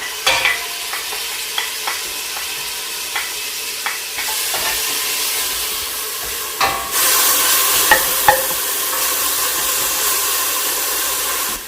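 Onion hitting hot ghee in a pan, a loud steady sizzle that jumps brighter partway through, punctuated by occasional sharp stirring clicks and scrapes, with no voices.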